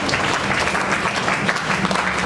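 Sustained applause from a congregation in church, many hands clapping at once in a constant, fairly loud roar with no break.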